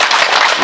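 Brief burst of applause from a wedding crowd in Kirehe, Rwanda, greeting a performer: a dense, steady patter of many clapping hands filling the whole moment, close and loud.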